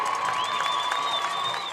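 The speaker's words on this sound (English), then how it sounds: "The crowd's pumped tonight." A full homecoming crowd at a Texas varsity high school football game, Navarro Panthers against Jarrell Cougars, roars with steady cheering and shouting, plus whistle-like tones rising over the noise.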